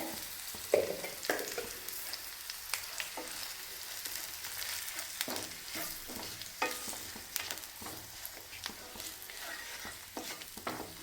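Kashmiri chili powder being stirred into a pickle masala in oil over a low flame, a soft steady sizzle broken by repeated scraping spoon strokes against the pan, close and without talk.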